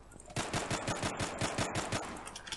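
Rapid automatic gunfire in the online shooter game Zula: a fast, evenly spaced burst of about a dozen loud, close shots, with no talk over it.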